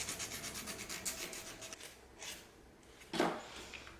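A nail file rasps against a fingernail during nail-sticker application, giving quick, soft, rhythmic scratching strokes close by, then a few slower rubs and one louder scrape near the end.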